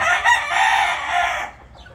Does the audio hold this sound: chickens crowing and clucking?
yes